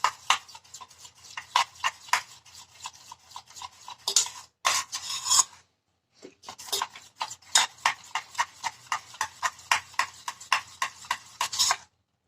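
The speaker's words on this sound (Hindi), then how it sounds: "अब इसको अच्छे से इस तरह से आप फेंट लीजिए, जिससे कि दूध और मलाई जो है ना हमारी मिक्स हो जाए अच्छे से" Rapid rhythmic whisking of milk and cream in a bowl, close and steady, with brisk repeated strokes pausing briefly midway before resuming.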